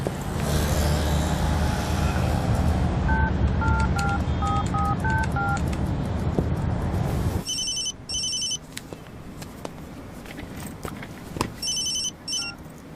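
A telephone keypad beeps out a quick run of dialing tones over busy background noise, then a ringing tone repeats in two pulsing bursts on a quieter line.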